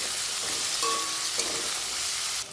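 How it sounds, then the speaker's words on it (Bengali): Jackfruit seeds and potato pieces frying with salt and turmeric give a steady close sizzle, with a short stirring scrape midway, then the hiss drops away near the end. "সামান্য একটু হলুদ গুঁড়ো দিয়ে আমি ভেজে নিচ্ছি"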